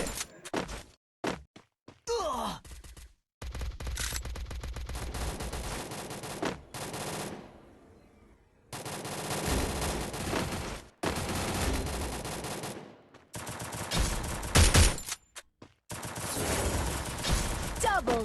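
Bursts of gunfire from the Free Fire battle royale game, rapid automatic volleys broken by short silences, loud and close, with some other game effects in between.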